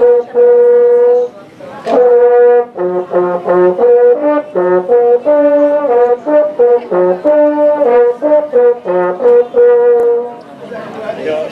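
Hunting horns played by a group of horn players sound a traditional Slovak hunting signal at a hunters' festival, with loud sustained brassy tones in a rhythmic phrase, played alone.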